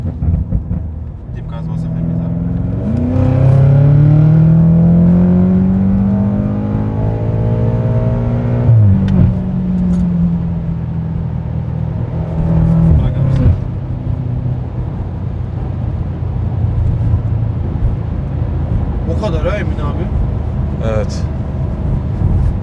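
A tuned BMW M5 F90 producing over 800 hp revs hard and rumbles, its engine note sweeping up and down loudly with people talking over it.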